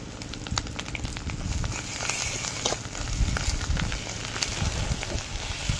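Green chili and garlic paste frying in a pan with softened onion, for a kochur loti dish with shrimp, gives a steady crackling sizzle with scattered pops, close and continuous throughout.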